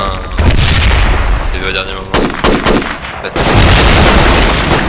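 Grenade explosions in the military game Project Reality land as loud, heavy booms amid bursts of gunfire, with players talking over the action.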